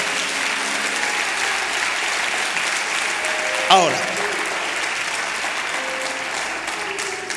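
Sustained congregation applause during a Spanish-language church sermon, steady clapping with a sharp knock partway through and a voice speaking briefly over it.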